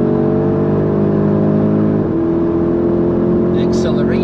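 A fast SUV accelerates hard on the Nürburgring, its engine droning loudly and continuously from inside the cabin with a shift in tone partway through and a brief squeal near the end.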